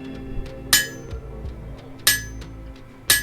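A hammer strikes an anvil at a historic village, three sharp ringing metallic clinks spaced about a second and a half apart, each with a bright lingering ring over faint background clatter and light tapping.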